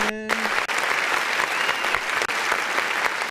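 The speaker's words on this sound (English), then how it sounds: "I hate these claps with a passion" Dense applause-style clapping sound effect on a livestream, loud and continuous for the whole stretch with a brief tonal blip at the start and no talking.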